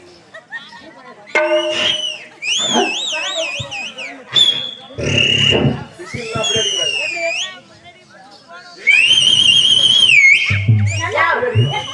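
Loud shrill whistling from a person at a lively Tamil stage performance comes in several wavering, sliding bursts, with other voices and crowd noise between them.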